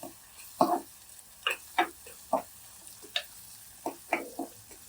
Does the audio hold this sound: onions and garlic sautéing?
yes